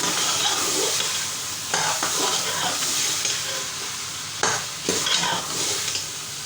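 Potato keema frying in a pan and being stirred, a steady sizzle with scraping spoon strokes that make a few sharper bursts along the way.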